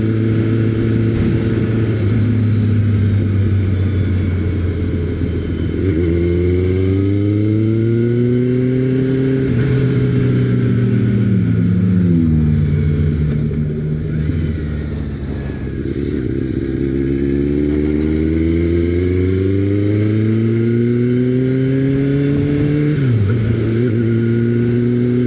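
A new rider's motorcycle engine drones loudly and steadily, revving up through repeated rising sweeps and dropping back as gears shift, close and continuous with no voices.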